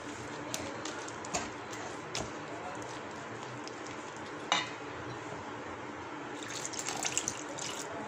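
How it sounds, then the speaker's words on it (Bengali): Water trickles and pours in small amounts into flour for paratha sandwich batter, a soft, fairly quiet running sound with a few light clinks and splashes scattered through it. "অল্প অল্প করে পানি দিতে হবে"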